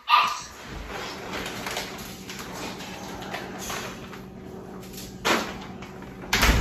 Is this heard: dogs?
yes